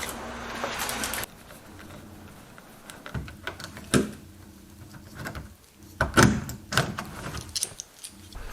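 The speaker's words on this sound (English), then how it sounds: "I picked a door handle up for this door back here. So let's get it installed." Hardware being fitted to a barn door: sharp metallic clicks, knocks and rattles of handle parts arriving in scattered bursts, with quieter handling noise between them.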